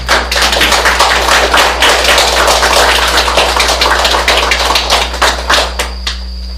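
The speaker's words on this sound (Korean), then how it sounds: "힘찬 박수로 환영해 주시기 바랍니다" An audience in a lecture hall gives sustained, dense applause welcoming a professor, loud and continuous, thinning into scattered claps toward the end.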